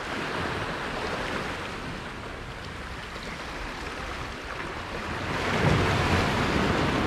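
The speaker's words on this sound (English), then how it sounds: "See what happened to waves? Look." Ocean waves crashing against man-made boulders along a shore, a loud continuous roar of surf with a swelling surge near the end, mixed with wind noise on the microphone.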